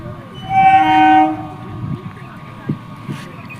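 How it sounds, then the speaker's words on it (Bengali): A passenger train pulls into a station near the Sundarbans, India, sounding a loud, sustained horn blast followed by rumbling and clatter of the cars rolling in close by, with faint voices around. "দেখতেই পাচ্ছ ট্রেন ঢুকছে।"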